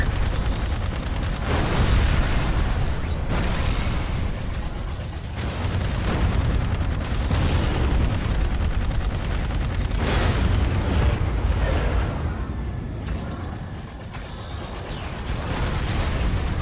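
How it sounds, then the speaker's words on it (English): A heavy cannon fires amid explosions in the video game Dark Void, producing dense rolling booms and blasts that pile on each other with brief lulls, loud and continuous. "What's that cannon? They're targeting the Ark."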